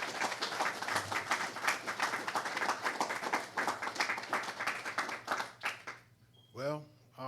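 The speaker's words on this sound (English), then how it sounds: "Please give all who have given presentations before us a round of applause" An audience claps for several seconds in a dense, steady round of applause that fades out, followed by a short burst of speech.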